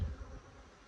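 Honeybees buzzing around an open beehive, a low, soft hum of many insects heard briefly and faintly, fading quickly.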